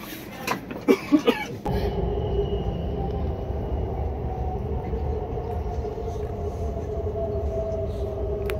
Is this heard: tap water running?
no